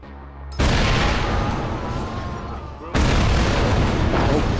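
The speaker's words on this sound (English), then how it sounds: "The explosion was bigger than I expected." A loud boom bursts out in the Watch Dogs video game, followed by a second heavy blast a couple of seconds later, each leaving a dense sustained roar.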